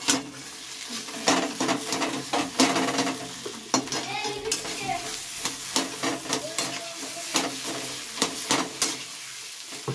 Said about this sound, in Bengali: দিয়ে আবারও ভালোভাবে আলুটাকে ভেজে নেব।